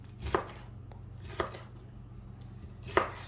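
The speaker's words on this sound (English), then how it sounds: "So what I'm gonna do is get all my vegetables chopped." Knife chopping vegetables for steak fajitas on a cutting board, three sharp distinct chops spaced about a second apart over a low steady background hum.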